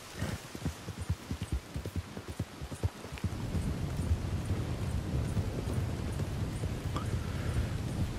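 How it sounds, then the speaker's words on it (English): Heavy rain in the video game Red Dead Redemption 2 falls as a steady, dense hiss that takes over after a few seconds of clopping horse hooves, then continues loud and unbroken to the end. "It's raining a lot too."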